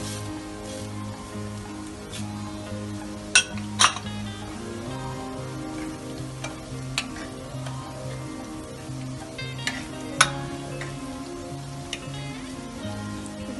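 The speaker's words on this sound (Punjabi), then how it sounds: "ਤੇ ਹੁਣ ਇਹ ਆਪਾਂ ਪਾ ਦਿੰਨੇ ਆ ਜੀਰਾ ਤੇ ਲਾਲ ਮਿਰਚ" Cumin and red chilli dropped into hot mustard oil for a Punjabi curry, giving a light crackling sizzle with scattered sharp clinks and pops, set against a steady low hum, no one speaking.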